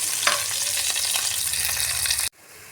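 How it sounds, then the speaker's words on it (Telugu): Onions and green chillies frying in oil for a village-style chicken curry, a steady close sizzle with occasional stirring scrapes, cutting off abruptly near the end. "ఇప్పుడు ఆనియన్స్ అలాగే మిర్చి యాడ్ చేసుకొని చక్కగా ఫ్రై చేసుకుందామండి"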